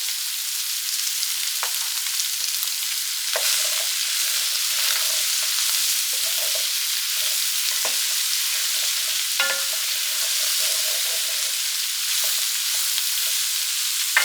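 Diced green bell pepper and celery frying in a pan, a steady bright sizzle with occasional soft stirring knocks, no talking.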